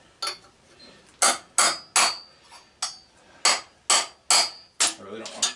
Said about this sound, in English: Let me get the bigger punch.